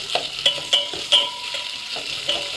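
Capsicum, onion and chili for soya chilli stir-fry over a low flame, a soft sizzle punctuated by five or six crisp spatula scrapes in an uneven rhythm, close and alone.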